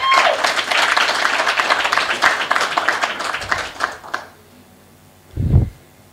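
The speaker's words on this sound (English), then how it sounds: "Can you give him a round of applause again?" A conference audience at a South African union's inaugural meeting gives a lively round of applause. The clapping is dense and close for about four seconds, then stops abruptly, followed by a short low thump.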